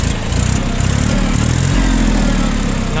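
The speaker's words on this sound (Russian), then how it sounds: "двигатель на самом деле работает достаточно ровненько. Напомню, трехцилиндровый мотор." A Japanese mini tractor's three-cylinder engine runs steadily at idle, close up, with a dense low rumble and even rhythmic chugging throughout, no voices.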